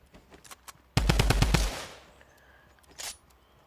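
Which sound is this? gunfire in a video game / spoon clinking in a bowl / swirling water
gunfire in a video game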